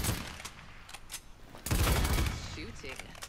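Automatic weapon fire from a character's gun in the shooter game Paladins, a run of rapid shots with a heavier sustained burst midway, loud and close with game sound effects around it.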